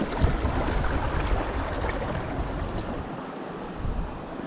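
Steady broadband wash of moving water, a small stream flow high in the mountains, continuous and fairly close with a slight rush, no voices.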